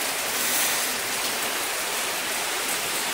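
Rain falling in Mecca on a Friday: a dense, steady hiss of heavy rainfall, constant and fairly loud throughout, with no voices.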